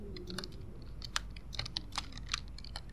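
Computer keyboard keys clack in quick, irregular bursts of sharp clicks, close up and moderately loud, as someone plays a PC horror game. No one speaks.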